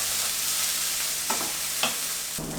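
Beans dropping into a hot pan for Costa Rican comida típica, a loud steady sizzle broken by a few sharp bursts as they hit the oil, with no talk.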